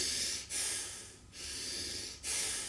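Strong chest breathing shown as a breathing-exercise demonstration: loud, close, airy inhales and exhales in three long rushes separated by brief pauses, with no talking.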